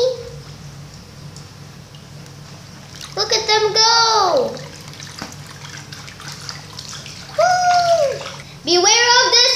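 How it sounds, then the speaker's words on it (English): Water sloshes and splashes in a Playmobil toy wave pool at a pretend waterpark, rising in two loud bursts alongside a child's excited squeals and voices. "Beware of the splash!"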